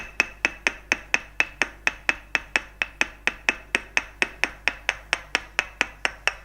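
A wooden tok sen mallet taps at a steady, even rhythm, about four sharp knocks per second, continuing unbroken with no talking, during a traditional northern Thai massage.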